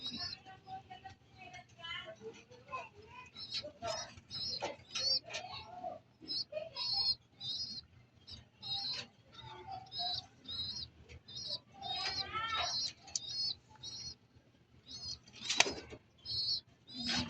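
Pigeons coo and flutter close by in short, repeated bursts of soft throaty calls mixed with chirps and scattered wing flaps, with people talking intermittently in between.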